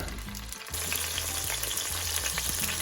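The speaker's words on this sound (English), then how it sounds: "we put it in the hot oil. Ooh, hear the burn." Tomatoes and garlic hit hot oil and erupt into a loud, steady sizzle and crackle that continues unbroken, close by.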